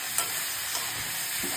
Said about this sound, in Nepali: यसलाई चलाएर मजाले खराउनु पर्छ